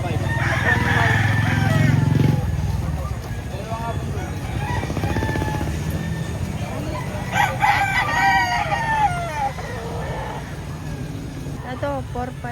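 Chickens and roosters at a poultry market in Lipa, Batangas crow and cluck repeatedly, close and loud, while people talk over the birds and traffic rumbles in the background.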